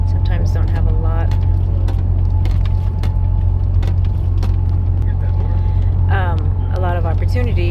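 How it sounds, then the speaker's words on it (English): Engine drone and road rumble fill the cabin of a moving car as a steady low hum, with a voice talking over it throughout. "a lot of background noise from the engine in the road"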